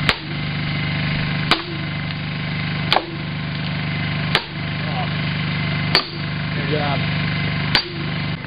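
Hammer blows drive a stuck piece into place during a work day, six sharp, evenly spaced strikes about every one and a half seconds, loud and close over a steady low hum.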